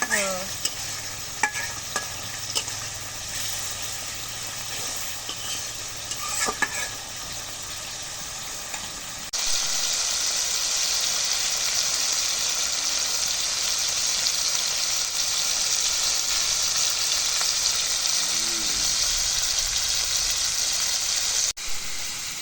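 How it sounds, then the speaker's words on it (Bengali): Spices frying hard in a pan for goat tripe curry, with steady stirring scrapes over a loud continuous sizzle that swells midway and holds strong to the end. "এখন মশলাগুলো কষানো হবে"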